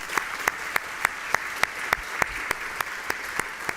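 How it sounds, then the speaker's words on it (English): Sparse, evenly spaced claps at a conference honouring a lifetime award recipient, each sharp hit standing out over a quiet room in a steady rhythm rather than a full ovation. "So please join me in an applause to him."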